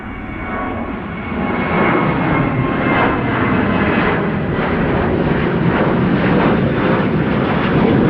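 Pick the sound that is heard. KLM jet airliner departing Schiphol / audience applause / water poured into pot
KLM jet airliner departing Schiphol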